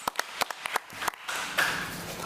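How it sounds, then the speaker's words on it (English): A round of applause at a committee meeting for a staff member of an early childhood center: a few separate, sharp claps first, then a fuller but fairly soft burst of clapping from the room. "So let's give Ms. Glover another round of applause."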